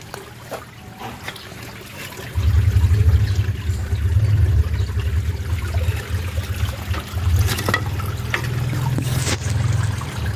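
Water trickles steadily through the filter stream of a clear-water koi pond, a close, continuous babbling flow that begins after a quieter opening and runs on alone at a fairly even level.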